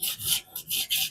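A knife blade is sharpened on a fixed angle benchstone, giving three quick, close, rasping strokes that rise and fall in an even back-and-forth rhythm.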